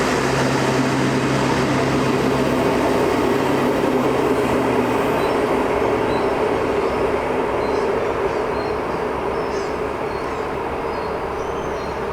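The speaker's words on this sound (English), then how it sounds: "Here is a Class 92 which is used for commuter travel." Class 92 commuter train at Trondheim railway station in Norway, a steady loud rumble of rail running with a low hum, continuous throughout and fading slightly toward the end, with no talk.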